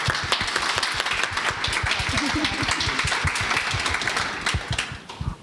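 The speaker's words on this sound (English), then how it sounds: "so a round of applause." Audience applause for the speaker panel at a Get Into Gaming 2018 event, sharp dense clapping that stays strong before thinning out in the final moment.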